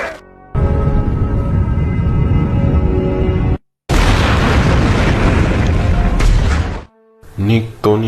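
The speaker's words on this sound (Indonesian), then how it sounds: "Dragovic tewas dan meledak bersama helikopter di tempat itu" A helicopter blows up in an action film scene with a loud sustained roaring blast and rumbling debris, cut off abruptly, followed by a short gap and then a further burst with overlaid speech.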